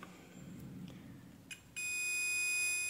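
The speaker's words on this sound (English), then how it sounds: "If there is a short circuit, it will give a beep." A multimeter in diode mode touching a shorted ceramic capacitor gives a few faint clicks as the probes make contact, then a sudden, loud, steady high-pitched beep that holds to the end.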